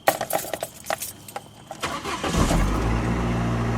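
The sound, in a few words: car engine starting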